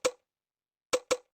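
Kick drum made from a pitched-down pickleball paddle hit, three short dull thumps, one alone then a quick pair after a pause, quiet and dry with no talking.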